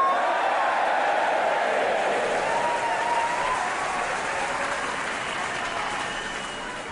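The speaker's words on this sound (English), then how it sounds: "I suggest you give them all a cheer" A concert audience applauds and cheers an orchestra, a dense, sustained wash of clapping and voices filling the hall, holding steady and then slowly fading toward the end.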